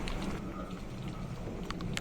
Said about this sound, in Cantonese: 而家就傾盆大雨。